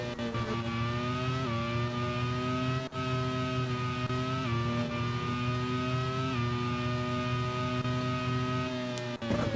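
Race car at the Sachsenring in a Nations Cup race: a loud, sustained high-revving engine whine rises steadily, with brief dips at gear changes and a few sharp clicks, and no voices over it.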